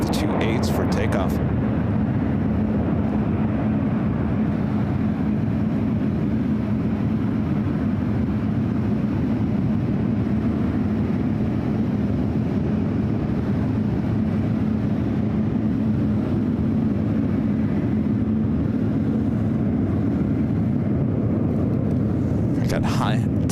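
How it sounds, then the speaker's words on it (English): A United Boeing 777-300ER taxis toward the runway at SFO for takeoff, giving off a steady, low jet rumble at a distance. The hum holds constant the whole time, with a voice talking over it. "Also have another United 777-300ER heading out to the 28s for takeoff."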